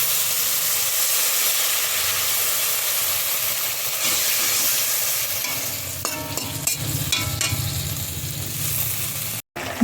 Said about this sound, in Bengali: ঝোলটা ফুটে গেছে